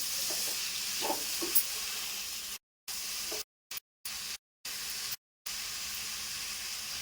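Chopped tomatoes are stirred into a pan of boti curry, giving a steady bright sizzle and hiss with a few soft scraping stirs, broken by several brief silent gaps.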